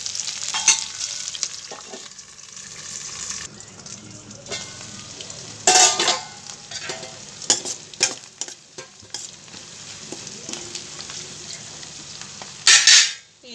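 Onions frying in a pan for chicken curry, a steady sizzle with stirring and scraping strokes throughout and several louder bursts of crackle near the start, middle and end.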